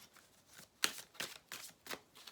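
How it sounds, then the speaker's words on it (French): Cards from an advice card deck are shuffled and drawn, making a few soft, quick riffling swipes and flicks close by at low volume, without speech. "Alors, on va prendre une carte conseil."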